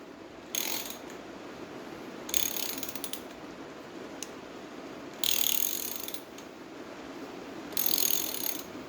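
Ratcheting clicks from a wrench turning a harmonic balancer puller bolt clockwise, coming in four short bursts separated by quieter pauses, close to the listener and with no talking.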